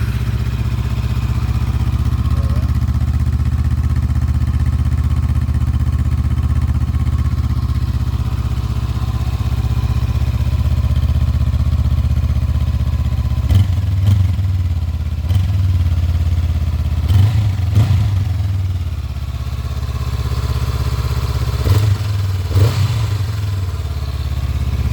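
A cold Honda CL500 motorcycle engine idles steadily and close up, a low continuous rumble with a few brief blips of throttle toward the end.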